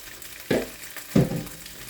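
Broccoli florets drop into a warm pan for gentle sautéing, giving two short bursts of sizzle about half a second apart, each fading into a light crackle, with no talking.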